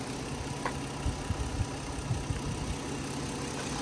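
A 2009 Kia Rondo EX V6 engine idles close by with a low, steady hum and faint rhythmic pulsing, running smoothly and quietly without any voices.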